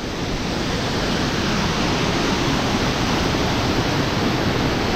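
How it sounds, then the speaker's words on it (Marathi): Kanchenjunga Waterfall in Sikkim pours in a loud, unbroken roar of rushing water that holds steady throughout, with no voices. "हा पाहू शकताय कांचनजंगा वॉटरफॉल."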